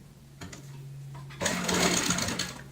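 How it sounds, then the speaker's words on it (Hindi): Close sewing machine stitching a strip onto a cushion cover: quiet handling first, then a loud steady rapid run of stitching for about a second before it winds down. "1 पैर चौड़ाई वाली सिलाई लगाएंगे।"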